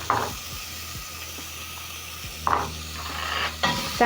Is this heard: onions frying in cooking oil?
yes